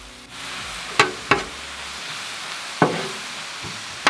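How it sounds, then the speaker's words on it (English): Apples with melting butter sizzling on a griddle, a low steady sizzle broken by several sharp knocks and scrapes of a utensil against the hot surface. "Now that we have our apples down, I'm going to add in some butter and let that melt."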